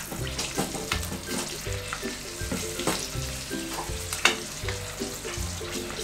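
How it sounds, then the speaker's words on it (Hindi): Cumin seeds and three to four slit green chillies crackle and sizzle in hot oil for a tadka for kadhi pakora, a steady dense frying hiss with scattered pops and occasional spoon scrapes, close and without talk. "मैं खाली इसको जीरे का और हरी मिर्च का बघार लगाऊंगी"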